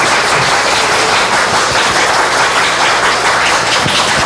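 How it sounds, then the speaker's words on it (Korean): Loud, dense audience applause welcoming a guest onto the stage at a Korean political town-hall event, sustained and even throughout with no talk. "박수로 맞아주세요."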